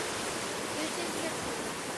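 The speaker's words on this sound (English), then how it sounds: "Here comes a wave." Ocean surf on a Maine shore, a steady, loud broadband wash of breaking water filling the whole moment, with no distinct individual crash standing out.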